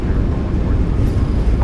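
Simulated Boeing 737 MAX 8 thrust reversers deploying on landing in a flight simulator, a dense low rumbling roar of engines spooling up, steady and close throughout.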